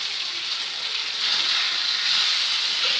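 Aromatic rice fries in a spoonful of ghee, giving a soft, even hiss that holds steady throughout.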